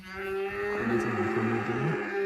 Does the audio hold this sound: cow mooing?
yes